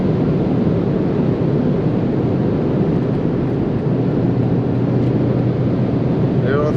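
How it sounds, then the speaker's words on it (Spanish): A BMW M135i xDrive cruising at speed on a German autobahn, with a steady broad engine and road roar mixed with wind rush, loud and continuous throughout. "ya sientes como está trabajando el motor en este coche"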